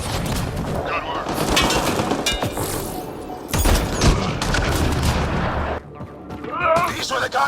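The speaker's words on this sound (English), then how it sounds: "What are they shooting at us for?" Enemy gunfire rattles in Mass Effect Andromeda as repeated bursts and booming shots in an intense firefight, mixed with voices speaking over the action.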